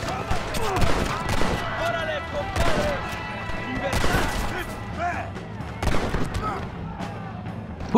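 Rapid gunfire from Red Dead Redemption gameplay, with repeated sharp shots in bursts across the whole stretch, loud and close, mixed with game sounds and a player talking.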